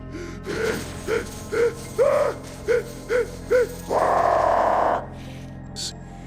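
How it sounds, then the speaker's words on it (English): A voice gasps repeatedly in short, strained pulls of breath, followed by a longer drawn-out wheezing gasp and a faint final breath. "He pulls at the chains, gasping for air."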